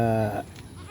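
A single short goat bleat at the start, close and clear, then fading into quiet background noise.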